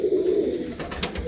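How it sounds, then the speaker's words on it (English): An almond pigeon, a smaller pigeon breed kept in a loft, gives a low, close cooing call, with a few brief higher chirps near the end. "the almond's kind of a smaller pigeon"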